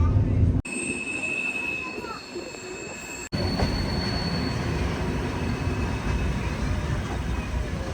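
Steady, loud rumble of a passenger train rolling on rails, heard from on board, with thin high wheel squeal ringing above it and a couple of brief dropouts.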